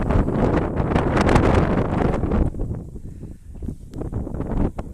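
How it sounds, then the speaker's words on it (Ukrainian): Heavy wind buffets the microphone outdoors among miscanthus grasses with loud, rumbling gusts that rise and ease, strongest at first and then fluttering more unevenly. "Ой, вітер, я не знаю, чи мене буде чути, я намагаюся перекричати той вітер"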